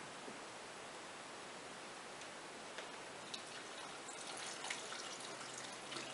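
Water is poured over raw BBQ chip ingredients in a pot, a faint, steady, hissing trickle of splashing that runs for several seconds without voices.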